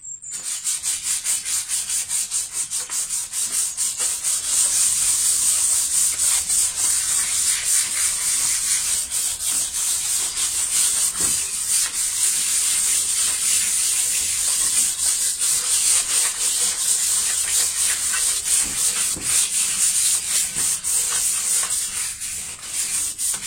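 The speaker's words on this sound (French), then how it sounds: "on va venir juste poncer les parties qui nous intéressent" Sanding of old vintage furniture being prepared for repainting, a steady, close abrasive rubbing with quick back-and-forth strokes that continues without a break for over twenty seconds.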